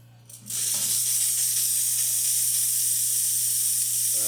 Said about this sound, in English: Here's the steam,